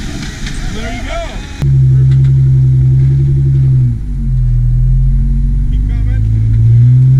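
A car creeps slowly forward while being guided by a person, its engine idling in a steady low rumble with a brief dip midway, and a voice calling out directions over it.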